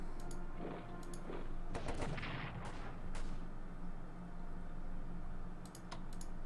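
Artillery booms from the Strategic Command: World War I strategy game come in a couple of sharp bursts. Light mouse or keyboard clicks are scattered around them, and low background noise sits underneath.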